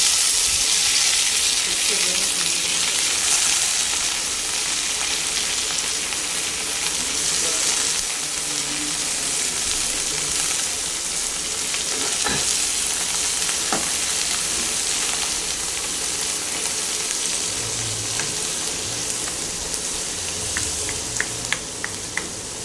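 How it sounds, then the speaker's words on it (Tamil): Ridge gourd peel sautés with onions in a pan, a loud, continuous close sizzle, with a few light scraping and clicking stirs toward the end. "வெங்காயம் வதக்கிடுச்சு இப்போ வந்து பீக்கங்காய் தோலை சேர்த்துடலாம்"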